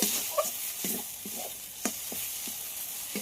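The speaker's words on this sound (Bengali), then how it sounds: "এবার ডিমটাকে একটু ভেজে নেব।" An egg frying in a pan gives a faint, soft sizzle broken by a few short clicks and scrapes of stirring. No one speaks.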